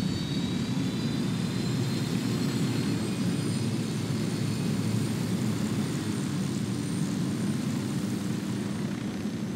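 A game aircraft flies in Ghost Recon Wildlands, a loud, continuous engine roar and rumble that holds steady throughout with no speech.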